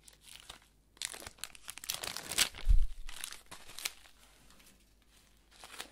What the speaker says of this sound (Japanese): 右もテープペロペロ剥がして